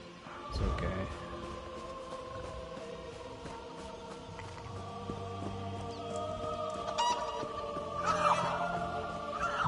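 Chickens cluck and gobble in the Elder Scrolls Online video game, a steady fowl chatter at moderate volume over a faint ambient background, with louder bursts near the start and toward the end.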